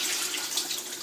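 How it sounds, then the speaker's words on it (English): Stock being poured into a pot of mutton stew, a steady close splashing pour running unbroken for a second with no talk. "And now I'm going to add about 4 cups of stock in this"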